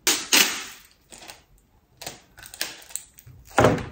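Gift wrapping paper is torn with the teeth in short, sharp, crackling bursts, several separate rips close by with quiet gaps between them.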